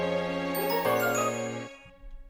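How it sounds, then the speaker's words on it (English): Studio arrangement with a flute melody layered over glockenspiel and pizzicato strings, bright tinkling notes in a short phrase that thins out near the end, with no voices. "So I add a flute on top of the glockenspiel and the pizzicato strings to sound like this."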